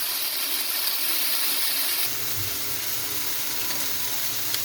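A chickpea and tomato curry simmers in a pan with a steady soft sizzle and hiss, quiet and close, with a slightly deeper bubbling texture joining partway through.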